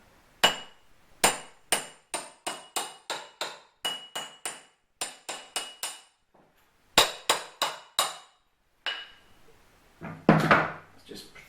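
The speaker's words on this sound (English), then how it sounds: "So we're going to knock this gently onto the handle." Sharp wooden knocks on a vintage Brade's Criterion No.2 wood axe being fitted to its handle, about twenty crisp taps in quick clusters separated by brief pauses, close and clear, ending with a softer rustling handling noise.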